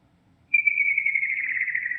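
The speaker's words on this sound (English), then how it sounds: "You've got a gray-beaked grouse there, not my favorite bird." A single clear, high-pitched whistle from a gray-beaked grouse in Kentucky Route Zero starts abruptly and holds steadily, slightly falling, for about a second and a half over near silence.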